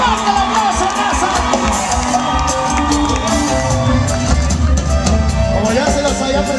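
A large crowd at a live norteño concert at a casino claps, cheers and whoops loudly and continuously, with shouts rising above the dense applause.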